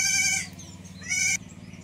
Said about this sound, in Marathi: त्यांनी आताच बकऱ्या आणल्यात बघा चरून.